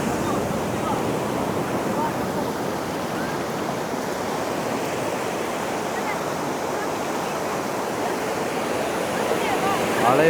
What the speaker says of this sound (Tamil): அலையை பாருங்கள், இங்கேருந்து பார்க்கும்போது ரொம்ப பெருசாக இருக்குது